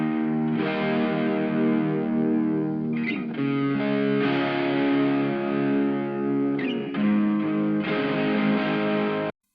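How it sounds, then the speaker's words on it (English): Electric guitar plays distorted chords and riffs through a Boss Katana Mini amp with cab simulation engaged, a continuous close, saturated phrase with brief pauses between chord changes, no talking. "I basically added the cab sim to make it sound like this."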